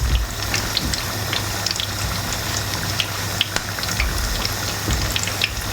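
Fish for fish and chips frying in hot oil, giving a steady, dense sizzle that crackles on without pause from start to finish.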